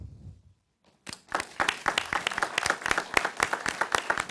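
After a short quiet gap, applause breaks out at a city council meeting, a crowd of sharp individual claps growing and holding at a lively, uneven rhythm to the end.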